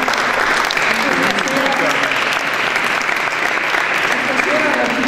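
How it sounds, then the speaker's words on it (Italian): Sustained applause from an audience at the Premio Carpanea awards evening in Casaleone, dense continuous clapping filling the hall at full loudness, with faint voices underneath. "va ancora un caloroso applauso per il loro merito"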